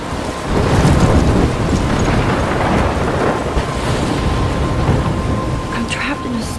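A stormy night in the video game Life Is Strange brings a heavy, steady wash of wind, rain and surging water. Low rumbles rise and fall, and a few sharper splashes come near the end.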